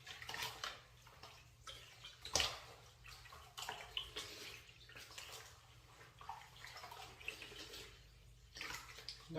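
Water runs and splashes faintly while a wig is rinsed, with soft uneven trickles and drips at low level and one brief sharper splash.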